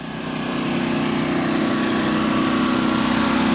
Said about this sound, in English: I'm doing it with the generator without a load